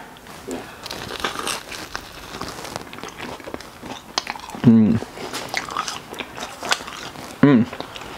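Someone bites into a flaky jam-filled pizza-dough pastry with soft crunches and crinkling. A couple of short murmured vocal sounds follow.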